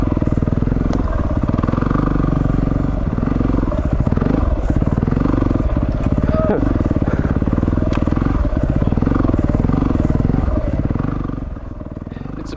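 A Yamaha WR250R and Honda CRF250L ride over deep, slippery whoops, loud close motorcycle engines rising and falling in rhythm with the bumps, with rattling clatter from the bikes throughout.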